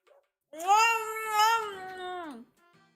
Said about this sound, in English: They're making actual cat noises when you try to get them to spit on food.